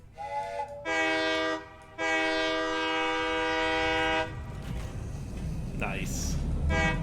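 A train horn in the factory-building game Satisfactory sounds in two long steady blasts as the train departs a station, followed by rumbling wheels and a short higher whistle, with someone talking over it.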